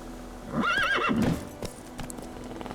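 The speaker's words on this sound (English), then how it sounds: "The horse is called Roach" A horse whinnies loudly in the video game The Witcher III, followed by soft clip-clopping hooves and faint ambient game sounds.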